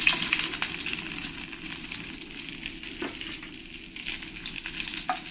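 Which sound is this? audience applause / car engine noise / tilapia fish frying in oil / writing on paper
tilapia fish frying in oil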